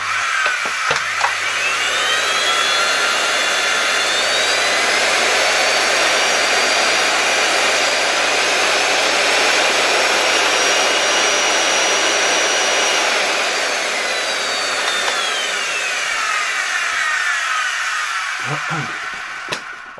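An LG V-3340D vacuum cleaner motor runs steadily on sharply reduced voltage, a loud continuous whine and rush held for about fifteen seconds with slowly shifting pitch, then winding down near the end.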